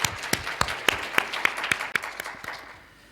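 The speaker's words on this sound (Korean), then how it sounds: "우리 다 같이 박수로 환영하겠습니다" A church congregation at a Christmas Sunday service claps to welcome visitors, a modest round of separate, sharp hand claps at steady spacing that thins out toward the end.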